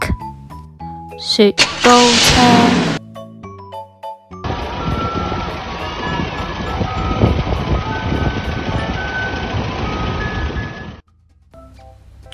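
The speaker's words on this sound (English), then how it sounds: "ice cream truck" An ice cream truck plays a loud, bright chiming jingle in short tonal bursts, followed by a long stretch of dense, steady melody and engine-like rumble before it cuts off.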